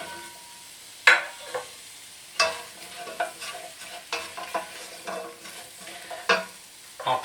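Green tomatoes tipped into a pan of sizzling potato and pea curry, a steady frying hiss broken by several sharp clattering bursts as they land and are stirred in.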